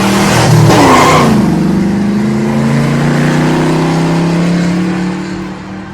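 A car speeds along the Long Island Expressway, its engine a loud steady roar with a rising pitch early on, then a sustained drone that fades slightly toward the end.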